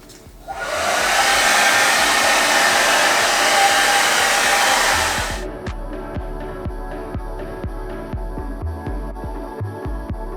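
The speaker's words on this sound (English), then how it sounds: "Okay, now back to blowing out my hair." A handheld hair dryer blows loud and steady for about five seconds while styling hair for big barrel waves, then cuts off, leaving a low throbbing hum with faint handling clicks.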